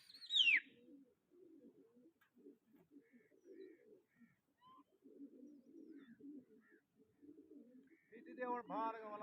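Pigeons coo in soft, low repeated phrases at close range, starting with a sharp high bird call and ending with a louder burst of calls over the cooing.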